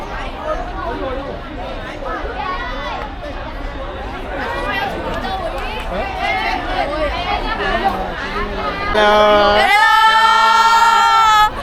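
Crowds of visitors mill through the Temple of Literature in Vietnam, a loud, busy babble of many overlapping voices nearby, with brighter calls and a surge of chatter toward the end.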